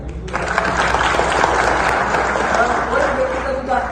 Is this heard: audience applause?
yes